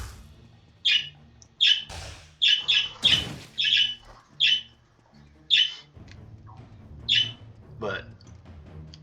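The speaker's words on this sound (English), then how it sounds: "Birds, will you calm down a little bit? Christ, they are just angry today." Angry birds in the video game Wizard of Legend give repeated harsh, shrill squawks in quick bursts, loud and close, with someone talking intermittently between and over them.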